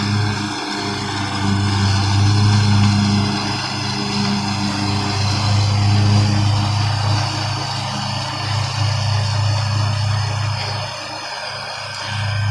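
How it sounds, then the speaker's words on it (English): A zero-turn riding mower's engine drones steadily and loud while it is ridden down a steep hill, a continuous close hum with slight swells and no talk. "riding a mower down a steep hill, a zero turn down a steep hill"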